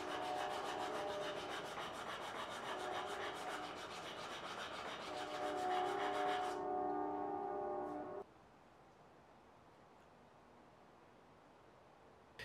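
Sandpaper rubs steadily against a wooden knife handle as it is rounded off, a continuous close scratchy rasp that stops abruptly, leaving faint room noise.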